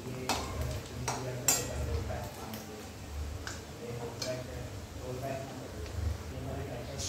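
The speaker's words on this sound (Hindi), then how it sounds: "अभी इसे हम टर्न करते हैं इस तरह से, जितने भी हमने डाले वो टर्न करेंगे और इसे हम अच्छी तरह से फ्राई होने देंगे" Pieces of food being flipped and fried in a pan in a home kitchen, with light spatula clicks and taps against the pan at irregular moments under steady talking.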